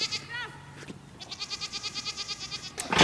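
Goats on a farm bleat nearby, one long wavering bleat followed by another quavering cry, loud and close with faint background sounds.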